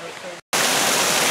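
Water rushing along an artificial waterway feeding a mill at a mountain farm museum in the Great Smoky Mountains, a loud steady broadband roar broken by a brief cut before resuming at full strength.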